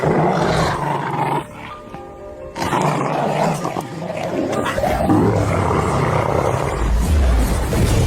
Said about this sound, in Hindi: लगता है कोई कुत्ता है।